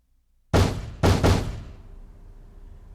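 Heavy fists pounding on a door in the video game 428 Shibuya Scramble: three loud, booming blows, the last two in quick succession, each ringing out and fading, with a fresh hit starting at the very end.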